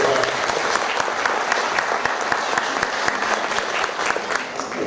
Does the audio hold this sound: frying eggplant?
no